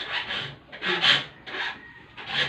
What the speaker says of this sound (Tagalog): lolo nag-aasa pa ng lagari